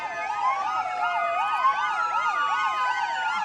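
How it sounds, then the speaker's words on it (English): Emergency vehicle sirens wail in overlapping rising and falling cycles, loud and continuous, as the vehicles pass in the Lea County Fair and Rodeo parade. "More sirens."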